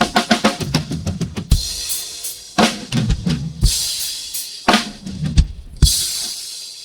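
Closing slowdown of a drum part on a song demo: fast, dense tom and kick hits give way to spaced, heavy strikes with ringing cymbal crashes, the gaps widening toward the end, loud and up front.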